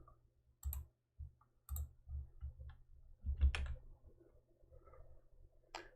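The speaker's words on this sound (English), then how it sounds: "Let me know if the keyboard is too loud." Quiet computer keyboard clicks during live Rust programming, coming as sparse, irregular taps and small clusters separated by silent gaps, close and faint.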